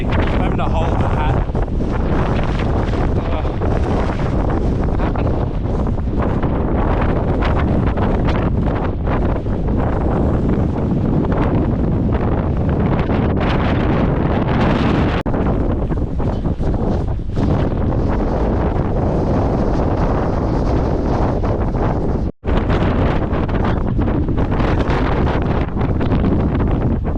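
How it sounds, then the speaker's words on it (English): Relentless gusting wind pounds the microphone on an exposed Kosciuszko mountainside, a loud, unbroken roar lasting the whole stretch, with one brief dropout near the end. "it's so windy."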